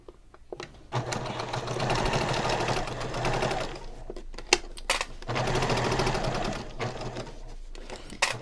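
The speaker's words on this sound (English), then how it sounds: "I'm going to sew from this guide stitch line that I did before" A sewing machine stitches down the side of a handbag pocket from a guide stitch line, running loud and steady in two long bursts separated by a brief pause with small handling clicks.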